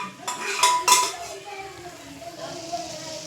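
Metal utensils and pots clatter in a home kitchen during pav bhaji cooking, a few sharp clanks close by in quick succession, then quieter stirring as a voice talks.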